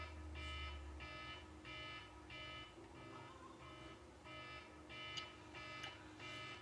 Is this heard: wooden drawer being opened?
no